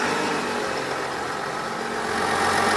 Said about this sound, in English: let's crank up this motor